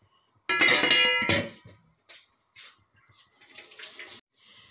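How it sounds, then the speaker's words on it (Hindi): Water is poured into a cooking pot of fried chicken in a home kitchen. It comes as one loud rushing splash of about a second, followed by fainter watery trickles and sloshing, with no talking. "अब पानी शामिल किया"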